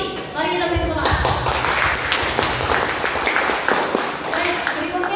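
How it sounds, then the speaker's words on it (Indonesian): An audience at a student presidential candidate debate at STMIK Anta bursts into applause, a dense, steady patter of many hands clapping close by that starts abruptly after a voice and carries on evenly, with people talking over it. "Mari kita beri tepuk tangan"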